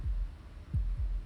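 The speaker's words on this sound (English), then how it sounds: "That was the sound of a heartbeat" Low, deep heartbeat thuds in the game Slay the Princess, a close double-beat pattern repeating over a soft hum, with no voices.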